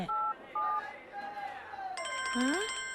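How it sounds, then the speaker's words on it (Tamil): A phone in a Tamil comedy film scene rings with a bright electronic ringtone, repeating tonal beeps and then a warbling melody over a noisy room with background chatter. "மச்சான் ஃபோன் அடிக்குதுங்க."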